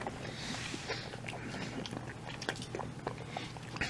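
Fries from a barbecue restaurant are bitten and chewed close to the ear, with soft irregular crunches and mouth sounds repeating over a few seconds and no speech.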